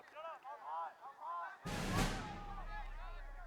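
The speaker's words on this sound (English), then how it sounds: "throw every mortar round on this MG" Mortar round bursts in the Burden of Command war game with a sudden heavy boom that rolls into a long, fading rumble, following a stretch of whistling, warbling tones.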